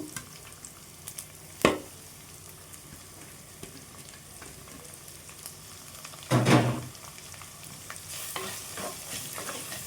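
Thinly sliced onions frying with green chillies in a pan, a steady low sizzle with a few louder stirring bursts near the start and middle.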